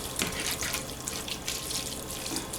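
Ladlefuls of starchy pasta water pour into a pan of pesto sauce, a steady splashing, trickling flow of liquid that runs close and continuous throughout, with no voices.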